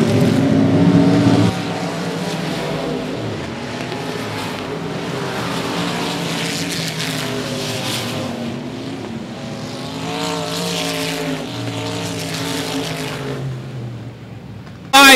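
Race cars roar around a short oval at 105 Speedway under green-flag racing, a loud continuous engine drone with rising and falling pitch as cars pass close by, no voices over it.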